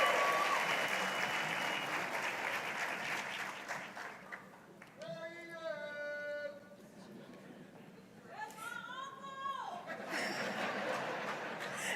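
An audience at a sheriff's office promotions ceremony keeps up a soft, sustained round of applause, fairly distant and quiet, with voices calling out over it partway through.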